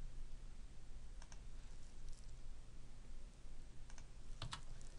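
A computer mouse clicks faintly a few times while a wire is being drawn in Eagle PCB layout software. The short, sparse clicks sit over a low steady background hum.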